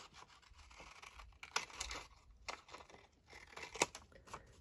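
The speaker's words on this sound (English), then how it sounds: "Just going to cut this down slightly shorter." Scissors snipping a paper tag for a junk journal, several short quiet cuts with light rustling of paper, close and fairly faint, no speech.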